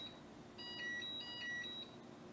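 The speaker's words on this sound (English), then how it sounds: "You heard that it beeped and it said do-do-do-do-do" A Keurig Rivo espresso machine gives a faint, brief series of high electronic beeps, a short melodic alert that plays once over a quiet room hum.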